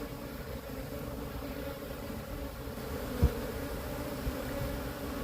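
A steady, low insect drone of many honeybees at a hive hums evenly throughout, with a single brief knock partway in and no voices.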